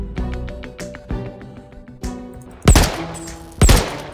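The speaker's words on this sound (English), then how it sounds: "That was an incapacitation shot." Incapacitation gunshots in Star Citizen, a few sharp loud reports standing alone after softer knocks and thuds, with two strong blasts near the end.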